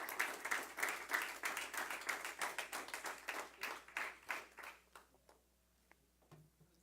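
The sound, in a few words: congregation applause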